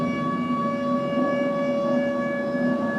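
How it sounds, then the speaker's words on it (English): A tornado siren wails steadily, a sustained harmonic drone holding its pitch throughout with no talking. "tornado sirens were going off"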